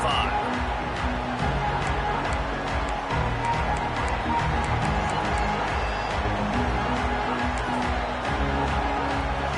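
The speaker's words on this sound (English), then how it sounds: "This crowd ready to make its presence known." A football stadium crowd roaring during a Tennessee game, a dense, steady wall of cheering and noise throughout, with a commentator talking over it.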